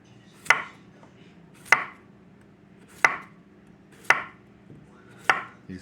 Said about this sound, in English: let's get these babies sliced up for a smothered fried potatoes and onions